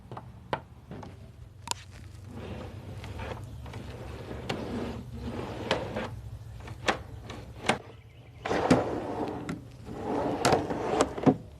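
A homemade wooden drawer slides into a DIY drawer system in the back of a Jeep Cherokee Trailhawk, giving several close wooden knocks and clicks over a low hum, with a louder rumbling slide near the end.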